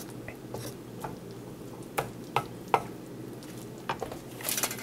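A spinach paste seasoned with turmeric, cumin and salt is fried in a pan for palak paneer, with a soft steady sizzle under sharp spoon taps and scrapes against the pan at irregular intervals.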